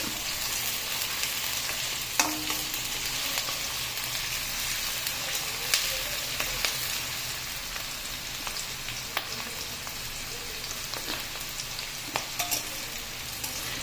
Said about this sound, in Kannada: ಈಗ ಈರುಳ್ಳಿ ಹಾಕ್ಬಿಟ್ಟು ಈರುಳ್ಳಿ ಫ್ರೈ ಆಗಲಿ ಸ್ವಲ್ಪ